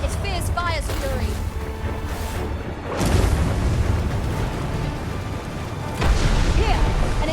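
A fire spell blasts in the video game Dragon's Dogma 2 with two heavy, rumbling booms a few seconds apart over a dense, continuous din of battle.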